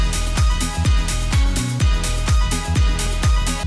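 Remade disco house track with its wiped plugins restored, a steady four-on-the-floor kick pumping under dense sidechained tops, bass and chords, loud and continuous with no voices.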